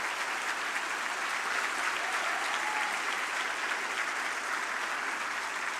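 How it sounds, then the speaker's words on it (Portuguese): Sustained audience applause fills the whole stretch, a dense, steady wash of clapping from a large crowd in a hall, even in loudness with no talk over it. "Vocês merecem, junto com o Davi Agape, a maior salva de palmas por estar fazendo o trabalho"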